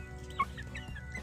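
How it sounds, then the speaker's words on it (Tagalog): Backyard chickens cluck softly nearby on a rural Philippine farm, a few short clucks over a low steady background hum. "Yung mga manok ko"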